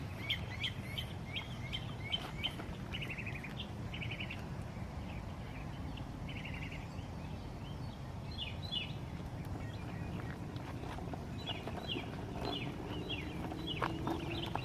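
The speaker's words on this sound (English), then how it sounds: "Man, there are a lot of birds out here." Many birds chirp and sing in a busy outdoor chorus in a cemetery, with repeated bright calls from several directions over steady low background noise, continuing throughout.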